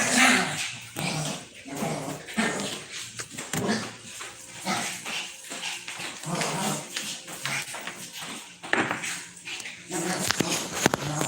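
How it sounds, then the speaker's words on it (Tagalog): Two dogs barking and yipping noisily in a busy, close mix with whimpers and growls, while a person talks over them. "Ang ingay ng dalawang aso."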